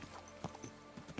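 Horse hooves clip-clop in a video game, a quick run of faint, evenly spaced hoof strikes at a trotting pace.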